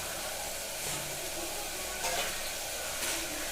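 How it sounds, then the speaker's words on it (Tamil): Cashews fry in a pan with onion and tomato for millet khichdi, giving a soft continuous sizzle with faint stirring scrapes; the sound is quiet and close, with no talk. "வெங்காயி தக்காளி எல்லாம் நல்லா வதங்கினதுக்கப்புறம் வந்து பார்த்திங்கன்னா முந்திரி ஆட் பண்ணிக்கிறோம்."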